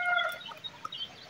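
Hens kept in a backyard in hot weather, giving soft, scattered clucks and short calls at a distance over a quiet outdoor background, with no talking.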